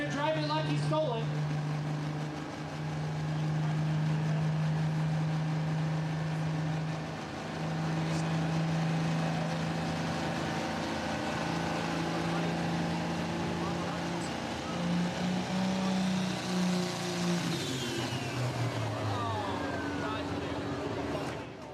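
Heavy engines of pro stock pulling tractors, close to 4,500 horsepower, roar continuously at a steady, deep drone that swells and rises toward the end, loud and close, with a voice faintly underneath, at a tractor pulling event.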